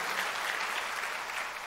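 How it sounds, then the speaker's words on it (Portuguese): A church congregation at a Sunday service applauds in a short, steady wash of clapping, even and moderately distant, with no voices over it. "Vamos aplaudir a nossa produção"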